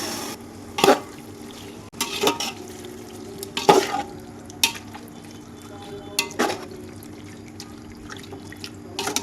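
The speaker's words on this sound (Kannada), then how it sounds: "ಸೊ ಇವಾಗ ನಾವು ವಾಶ್ ಮಾಡಿ ಇಟ್ಕೊಂಡು ಚಿಕನನ್ನು ಹಾಕೊಂಡೋಣ." Washed chicken going into a pot of onions fried golden, heard as irregular wet clatters and stirring scrapes at intervals over a low background sizzle, fairly close.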